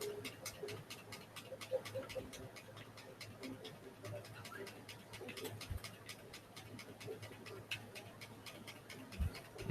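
Dogs and puppies pant softly and steadily at close range, with a quick, regular rhythm, light ticking and some faint background noise.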